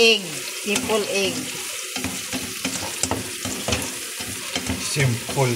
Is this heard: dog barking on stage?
no